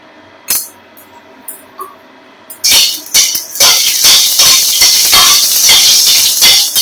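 Panch phoron spices hit hot white oil in a kadai: a few sharp clinks and taps give way to a loud, sudden, sustained sizzling hiss with crackling pops, close up.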